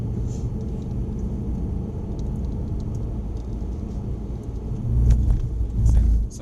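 A car circulates on the driving track at Mercedes-Benz World, heard as a low steady engine rumble from inside the cabin. Near the end it swells briefly louder, with a voice faintly present.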